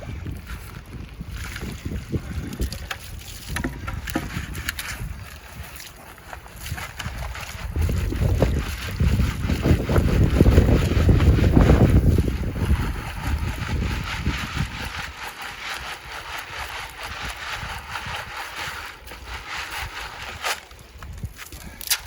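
Strong wind buffets the microphone in rising and falling gusts, with a constant hissing wash of freezing rain at about 32 degrees in New Hampshire, loudest in the middle.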